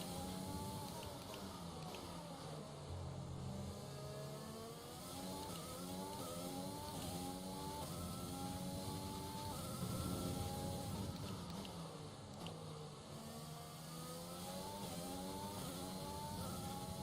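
An F1 car engine in the racing game F1 2020 revs continuously at high pitch, its tone sweeping up and down through repeated gear-like rises, loud and steady throughout with no talk.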